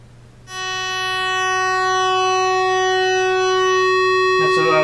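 Korg Trident MKII synthesizer sounding a sustained 50% duty cycle square wave, one steady buzzy hollow tone that enters abruptly and holds for several seconds, loud and close, ending with a brief click and no talk.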